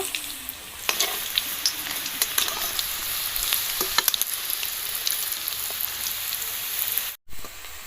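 Vegetable chops deep frying in hot oil, a dense continuous bubbling sizzle with scattered crackles and a few knocks, close and steady until a brief cut near the end, with no voices.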